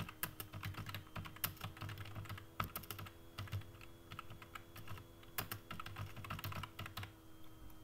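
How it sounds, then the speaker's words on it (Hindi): Fingers type on a computer keyboard while working in MS Word, producing a quiet, continuous run of irregular key clicks with a few louder taps, with no talking. "यहाँ मैं टाइप करता हूँ"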